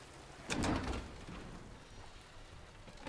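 Steady rain in the video game Silent Hill 2, hissing and pattering, opening with a louder rush of drops before settling into an even, continuous downpour.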